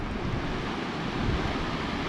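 Stormy sea swells and gusting wind roar along the coast, a dense continuous wash of surf and wind buffeting the microphone, loud and unbroken with no voices.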